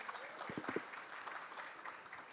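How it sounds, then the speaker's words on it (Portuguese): A LIDE Talks business audience gives a round of applause for Rodrigo. The clapping is faint and distant, with a few louder, closer claps near the start and low voices underneath. "Uma salva de palmas para o Rodrigo"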